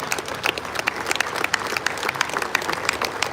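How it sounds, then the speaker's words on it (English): Crowd applause at a custom car show awards ceremony at the Vailo Adelaide 500, a steady wash of many hands clapping for the top five and winner of show, sustained and moderately loud throughout. "a big round of applause for our top 5 and our elite winner of show."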